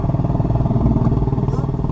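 A motorcycle passes close by a 2015 Toyota Avanza on a narrow village road in Kedungwringin, its engine a loud, steady, throbbing buzz with rhythmic pulsing that holds for the whole two seconds.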